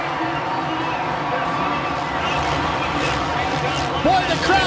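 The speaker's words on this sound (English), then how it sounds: "The crowd go crazy." A packed Supercross stadium crowd roars and cheers continuously as Ricky Carmichael makes a pass on James Stewart in 2007, a dense, sustained wall of noise with a commentator's voice running over it.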